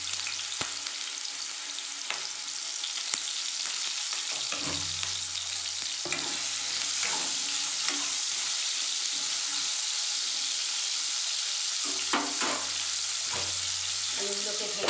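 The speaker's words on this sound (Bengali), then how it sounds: "আলুগুলো ডুমো ডুমো করে কেটেছি, আলুগুলো ভেজে নেবো একটু।" Diced potatoes fry in oil with a little salt, giving a continuous close sizzle broken by scraping stir clicks and faint splashes, with no talking.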